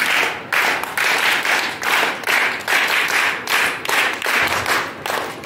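A group of Sunday school children perform a patterned VBS clap in unison, sharp claps grouped into a repeating rhythmic cycle, loud and close throughout.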